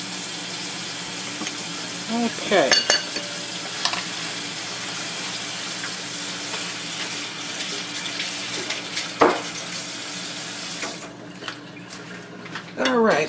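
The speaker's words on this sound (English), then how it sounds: "can you turn on that cold water there, please?" Cold water runs steadily from a kitchen faucet in a home kitchen where zucchini and polenta are being fried, a continuous close hiss with brief clatters and a short spoken word before the flow cuts off near the end.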